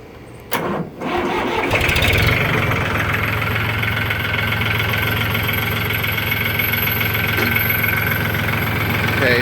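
A Lenar 274-1 tractor engine cranks and catches after a couple of brief bursts, then settles into a loud, steady diesel-like running idle close to the microphone, with no talking.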